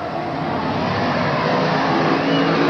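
Dirt modified race cars roar at full throttle around Afton Raceway as the green flag drops, a dense, steady engine din that stays loud and unbroken throughout, with no talk.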